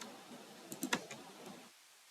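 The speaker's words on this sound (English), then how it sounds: "This time I will type 2." A few quick keystrokes on a computer keyboard, close and quiet, a short cluster of light clicks over a faint room hiss before it falls silent.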